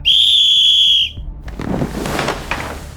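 One steady, shrill blast lasting about a second comes from a small whistle, loud and close, followed by soft shuffling and rustling noises.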